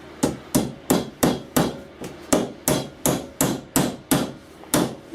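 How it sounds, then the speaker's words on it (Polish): Steady hammer blows driving a nail into wood while building an A-frame birdhouse, about a dozen sharp evenly spaced knocks, close and loud with no talking. "Teraz przy pomocy młotka w tą szczelinę wbijamy sobie gwóźdź"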